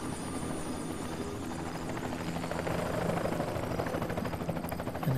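A helicopter in the stealth video game Splinter Cell: Chaos Theory, on the Hokkaido mission, gives off a steady, loud rotor thrum that holds at an even level throughout, with no talk over it.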